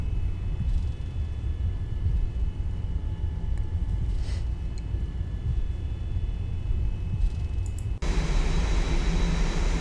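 Jet engines of a Boeing 787-9 in a flight simulator roar steadily during the takeoff roll as a loud, broad rumble with thin engine whine over it, and the noise surges near the end.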